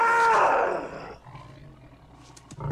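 A black tiger in the 1982 film The Beastmaster gives one loud, close roar that swells and then fades within about a second, followed by quiet rumbling and a short burst of noise at the end.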